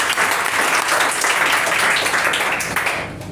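A classroom of spoken English students applauds with steady, dense clapping that tapers off at the end.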